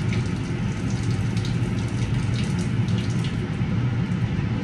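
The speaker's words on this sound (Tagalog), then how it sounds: "Sasalain muna natin ang tubig." Boiled pancit canton noodles draining, hot water pouring steadily through a strainer into a sink in a home kitchen, a continuous rushing splash that stays close and loud throughout with no talking.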